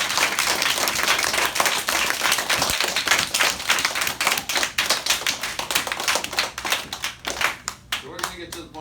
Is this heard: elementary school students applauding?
yes